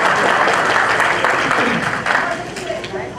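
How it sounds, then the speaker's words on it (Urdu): An audience at a literary gathering in Atlanta claps in steady, dense applause that stays loud throughout and only eases slightly toward the end. "اچھا آپ تالیاں بجا سکتے ہیں"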